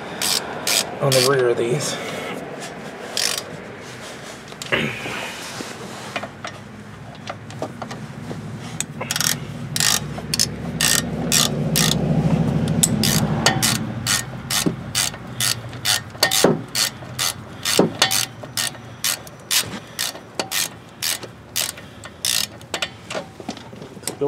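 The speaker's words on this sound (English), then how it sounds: "ratchet over to a 14 from a 15" A hand ratchet clicks rapidly while turning a brake caliper bolt on a 2008 Nissan Armada, with fast pawl ticks in close repeated bursts and a short spoken remark early on.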